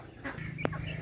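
Several chickens cluck and murmur close by in a village yard at feeding time, with one brief sharp squawk standing out over a steady low farmyard hum.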